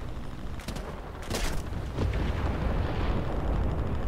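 Explosions in the combat game War Thunder, a series of booming blasts and rumbling bursts, close and heavy, followed by a sustained low roar.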